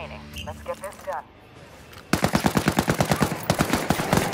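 Gunfire from the video game Ghost Recon Wildlands: after a stretch of talk and a brief lull, a rapid automatic burst of evenly spaced, loud shots runs steadily to the end.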